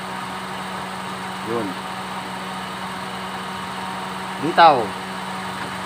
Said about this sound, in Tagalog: ulit natin at paanda rin makina.